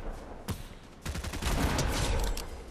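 Gunfire in Fortnite on PS5: a single sharp shot, then a rapid, sustained burst of firing, fairly close and moderately loud.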